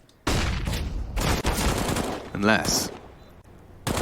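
Counter-Strike gunfire in a professional esports match, ENCE versus paiN Gaming at IEM Katowice 2023: rapid loud bursts of automatic fire and sharp shots in quick succession under a caster's excited commentary.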